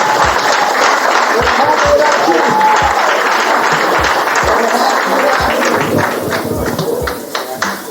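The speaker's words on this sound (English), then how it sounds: "Give her one more round of applause" A crowd applauds steadily, dense clapping with some scattered louder claps, fading slightly toward the end.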